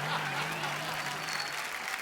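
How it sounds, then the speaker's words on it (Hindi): Applause from an audience, a steady wash of clapping throughout with a faint low hum underneath. "तो आप सबकी जोरदार तालियों के बीच"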